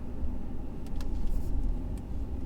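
A manual BMW M2 with a 365 hp engine pulls away under a bit more throttle, a steady low engine drone with faint clicks and rattles from inside the cabin and no talking.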